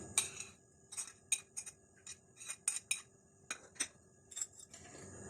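Egg mixed with red chili powder and spices in a bowl, a spoon clinking and tapping against the sides in quick irregular strikes, close and clear with no talking.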